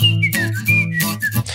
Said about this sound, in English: this one's called whistle.